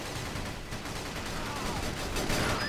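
Rapid, steady gunfire from the Battalion Wars video game, a continuous crackling stream of shots at moderate loudness, with no voices over it.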